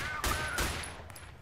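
Gunfire in the video game Total Conflict: Resistance comes as two rapid bursts, then a couple of fainter shots. The shots are sharp and close, with no talking.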